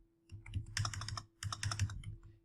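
Numbers are tapped out on a computer keyboard in two quick bursts of close, crisp keystrokes separated by a short pause.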